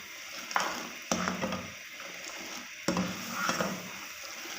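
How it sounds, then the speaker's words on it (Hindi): Boiling hotel-style milk tea whisked in a pot to raise froth, heard as a steady bubbling fizz broken by a few sharp clanks and bursts of vigorous stirring. "तब तक हम इसको पकाएंगे और इसको फेंटते जाएंगे ताकि इसमें एक अच्छी सी झाग बने"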